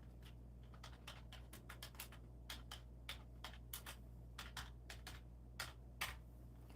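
Keys on a computer keyboard clatter in quick irregular bursts, close and fairly quiet, over a steady low electrical hum with no talking.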